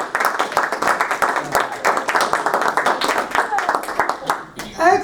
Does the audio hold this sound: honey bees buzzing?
no